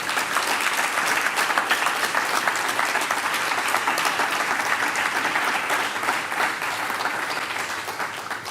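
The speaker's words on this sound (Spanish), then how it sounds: "así que por favor, otro aplauso" Sustained audience applause at a crime-novel award ceremony in Cartagena, a thick, even roar of many hands clapping that tapers slightly at the end.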